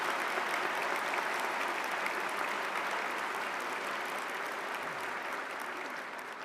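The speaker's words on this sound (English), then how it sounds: "You can clap now." A convocation ceremony audience claps steadily in a large hall, a dense, even wash of applause that holds throughout and tapers slightly near the end.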